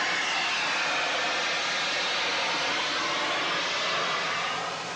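The rocket-engined boat Discovery 2 roars away across Lake Tahoe with a loud, dense, continuous rushing blast that holds steady throughout.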